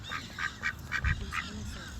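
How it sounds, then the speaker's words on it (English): Ducks call in a rapid series of nasal quacks and honks outdoors, six or so close, evenly spaced calls over a low background rumble. "the animals surrounding us, these wonderful, beautiful ducks here"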